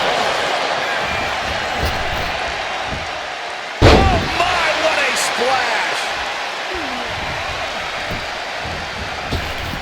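A heavy slam from a back suplex in the WWE 2K25 wrestling game lands as one sharp, loud impact, followed by crowd noise and ongoing commentary.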